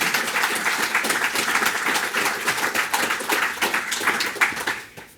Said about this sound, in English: I think it deserves a round of applause at this point.